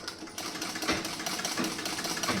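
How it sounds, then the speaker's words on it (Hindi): A sewing machine stitches fabric with a steady, close mechanical whir and rapid needle chatter that runs throughout without pause. "अब इस पे आप एक सिलाई लगा के इस"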